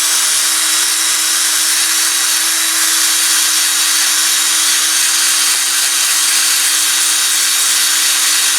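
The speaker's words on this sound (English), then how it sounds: "bit of emery paper and the drill" A power drill whirs steadily and loudly without pause, its constant high hiss from emery paper rubbing against spinning metal axles of a die-cast toy shovel dozer.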